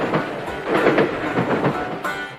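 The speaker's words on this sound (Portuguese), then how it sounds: "Esse é o som das rodas do trem passando pela junção entre um trilho e o próximo" Train wheels clacking over rail joints in a rhythmic series of thumps and clicks, loud and close, rolling along steadily.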